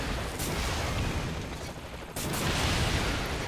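Gunfire in Saints Row: The Third rattles on steadily for a few seconds as dense, continuous shooting, with a short dip near the middle before the barrage picks up again.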